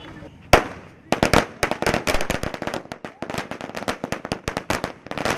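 Firecrackers bursting at a street celebration of a Jallikattu victory, with one sharp bang followed by a dense, rapid string of crackling pops, loud and near.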